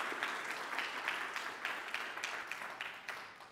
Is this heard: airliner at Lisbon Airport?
no